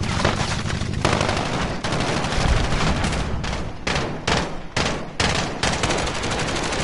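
Relentless gunfire from a gun in a PS4 video game, loud and close, rattles in rapid automatic bursts with brief gaps, and no voice is heard.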